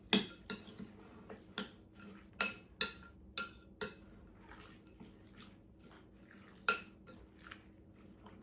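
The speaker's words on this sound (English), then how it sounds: "And you're just gonna stir that up." A spoon clinks and scrapes against a bowl as finely chopped celery and pecans are stirred in a Thanksgiving kitchen, about a dozen sharp, close taps in an uneven rhythm over soft rustling.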